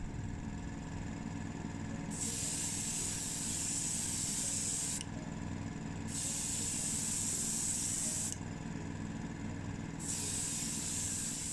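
Spray painting a coat of yellow paint on a Chevrolet Corvette: four long hissing bursts of spray separated by short pauses, over a steady low background hum.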